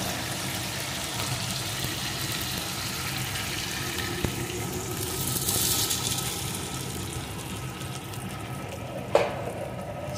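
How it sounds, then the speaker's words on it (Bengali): Water runs steadily into a pot of fish curry with potato and eggplant, a continuous pouring rush over a low sizzle, ending with a brief clink. "এখন দিয়ে দেবো পরিমাণ মতো জল।"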